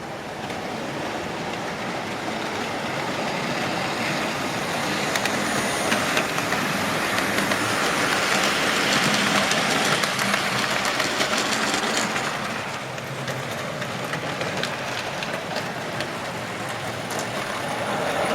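A model railway locomotive named Tornado runs steadily around a layout, giving a continuous rolling rumble and clatter of wheels on track that swells in the middle and then eases, with no voices.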